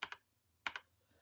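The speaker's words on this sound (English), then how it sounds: "It's just a mechanical keyboard." Keys clack on a mechanical keyboard in two quick pairs of crisp, close strokes separated by a short pause, alone and fairly quiet.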